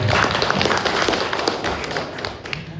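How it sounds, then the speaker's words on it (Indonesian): An audience at a formal event bursts into dense, close applause for the master of ceremonies, a continuous crackle of many hands clapping at full volume. "Tepuk tangan dulu buat beliau"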